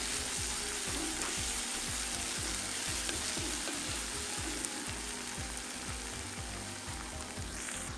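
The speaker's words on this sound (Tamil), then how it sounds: "இப்போ வெங்காயத்தோடு சேர்த்து வதக்கிக்கலாம்." Okra and onions sauté in a hot pan, giving a steady, close, continuous sizzle with an even crackle and no talk.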